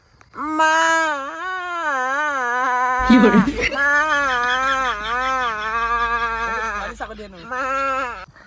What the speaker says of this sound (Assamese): কেনেকুৱা ছাগলী এইটো বুঢ়া বুঢ়া ছাগলী পোৱালিটো